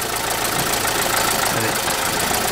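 A car engine running unevenly, with a fault-related unstable idle, heard close up as a steady, loud mechanical drone with a low rumble and faint irregular knocking.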